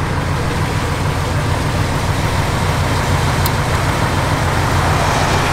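A 1971 Chevrolet Chevelle SS convertible with a mild cam idles steadily and loud nearby, a continuous low engine rumble with no speech.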